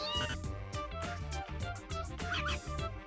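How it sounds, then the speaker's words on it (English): Cartoonish cat meows in a retro video game, sounding several times over a busy, loud backdrop of chiptune-style game music. "wacko cat."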